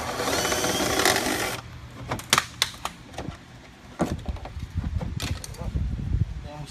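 Power tool removing screws during a Celica GTS teardown: a sustained whirring drill run, then sharp clicks, metal knocks and handling clatter nearby, with someone talking briefly.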